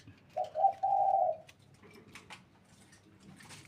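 Decoy dove cooing nearby, a drawn-out coo phrase followed by quieter clicks and faint rustling, with no talking.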